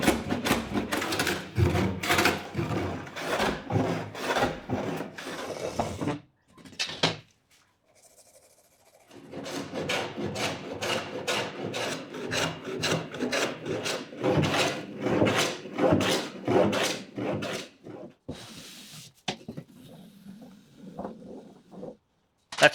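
A hand plane works across a wooden workbench top in rapid repeated passes, each stroke a close rasping shave, with a pause partway through before another long run of strokes.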